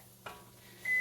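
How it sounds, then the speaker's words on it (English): A kitchen timer sounds a single clear electronic beep that starts near the end and holds steady, preceded by faint kitchen clatter with no talking. "That's my timer."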